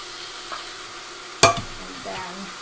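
Sweet peppers of red, yellow and orange frying in a pan make a soft, low sizzle, broken once by a single sharp scrape of a stirring utensil and a few quieter stirs after.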